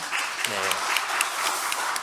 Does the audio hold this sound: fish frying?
no